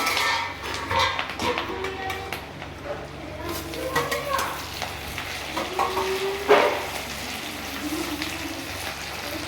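A paste of tomato, chilli and ginger is stirred and fried in a pan, with soft sizzling and scraping utensil clatter running under steady conversation.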